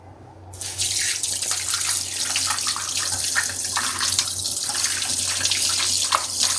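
Tap water runs over boneless chicken pieces being washed in a sink, starting abruptly and splashing steadily close by with no talk.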